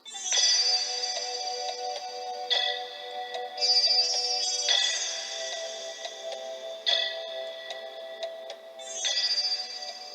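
Bright, chiming electronic music from the video game Klonoa, a character's theme with a repeating melodic phrase, played alone with no voices.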